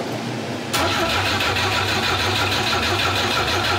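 A Volvo Amazon B20 engine with SU carburetors cranks briefly and catches, then settles into a loud, steady running idle close by, with no talking.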